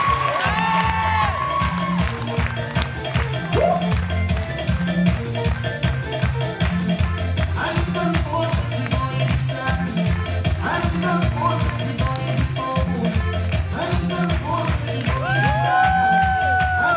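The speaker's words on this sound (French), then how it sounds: "Et on peut l'applaudir bien fort sous l'applaudissement." A resort crowd at Maxima Bay in Turkey cheers, whoops and shouts for a zumba teacher being introduced, the lively voices riding over loud rhythmic dance music that pulses steadily throughout.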